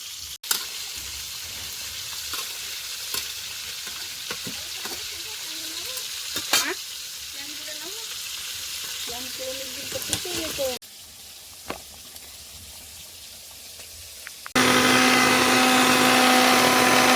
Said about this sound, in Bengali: ওদিকে মাছ ভাজা চলছে আর এদিকে কচু সিদ্ধ হচ্ছে।